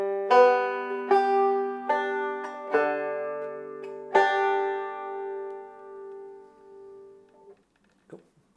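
A bluegrass banjo plays a slow tablature exercise from a beginner lesson: a handful of clear plucked notes and chords, each ringing out and decaying, close and alone with no talking.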